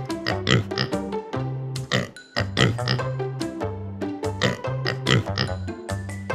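A pig oinks and grunts in quick repeated bursts, with a steady musical tone running underneath throughout.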